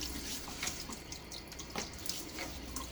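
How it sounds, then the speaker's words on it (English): Before a shave, hard tap water runs and splashes at a sink as it's scooped onto the face, a soft continuous trickle broken by small splashes and drips, fairly quiet with no talk. "I'm going to throw some water on my face."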